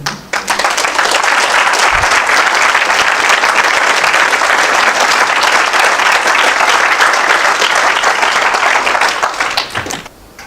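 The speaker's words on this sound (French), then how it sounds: "Je propose de les applaudir." A large audience applauds warmly at a twentieth-anniversary school gathering, a dense, steady roar of clapping that swells in quickly and holds loud for about ten seconds before tapering off at the end.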